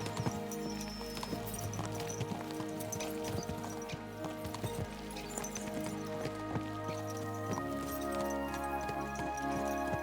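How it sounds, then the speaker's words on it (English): Horses' hooves clip-clop in a steady galloping rhythm in the medieval video game Kingdom Come: Deliverance II, loud and close, with the thud continuing under game music and ambience, with no talk. "Let's really spur these horses on, eh?"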